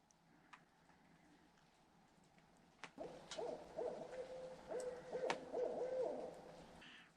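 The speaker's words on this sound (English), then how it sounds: "Pretty sure that's a great horned owl." A great horned owl hoots at night from trees near a campground, a string of low, soft hoots rising from quiet darkness after a sharp click, moderately distant and alone.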